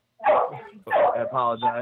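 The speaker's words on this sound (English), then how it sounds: "That's my dog." A pet dog barks and yips twice in quick succession indoors during a podcast recording, close and fairly loud, with a voice speaking over it.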